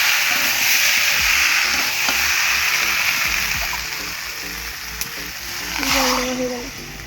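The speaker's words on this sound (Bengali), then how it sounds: "এই তরকারিটা দেখো হয়ে গেছে, জল দিতে হবে, এবার জল দিতে হবে।" Water poured into a pan of cooking curry gives a splashing, rushing wash that settles into a steady sizzling simmer, close by, with a brief clink partway through.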